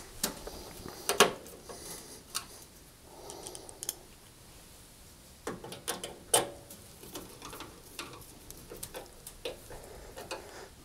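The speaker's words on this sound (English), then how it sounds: "Now you can screw it into place." Screws being driven in to fix a replacement thermostat in place on a Rangemaster cooker, heard as close, sparse metallic clicks and ratcheting ticks from a screwdriver with short pauses between turns, no talking.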